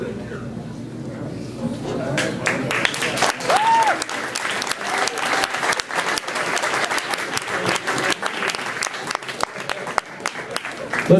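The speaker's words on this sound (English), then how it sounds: "Let's give these coaches a nice round of applause again for the wonderful job that they did" Banquet crowd at a youth football team gathering applauding the coaches, dense sustained clapping that swells after a quiet start and continues strongly, with scattered voices and a brief whoop mixed in.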